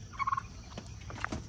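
Young wild turkey jake gobbling in a backyard setting near a hen, a short rapid burst of gobbling calls, moderately near, followed by faint scattered clucks and rustles.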